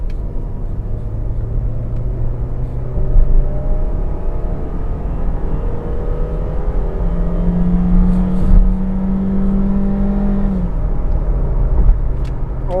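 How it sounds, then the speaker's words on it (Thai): A 2016 Suzuki Ertiga seven-seater accelerating hard from 40 to 100 km/h, heard from inside as a loud, steady engine drone whose pitch climbs, drops at a gear change, then climbs again over road roar. "ตอนนี้นะครับจะ เป็นอัตราเร่งช่วงออกตัวนะครับความเร็ว40-100นะ"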